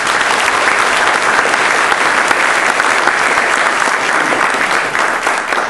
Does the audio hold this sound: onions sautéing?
no